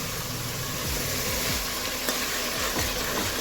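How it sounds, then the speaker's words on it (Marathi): Cashew paste masala sizzling loudly in hot oil in a close pan, a continuous dense fry with occasional scraping stirs. "आता हे छान परतवून घ्यायचं आहे."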